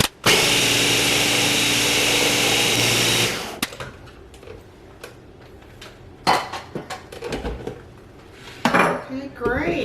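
A blender whirs loudly and steadily for a few seconds blending herbs, then stops. Clinks, taps and scraping follow.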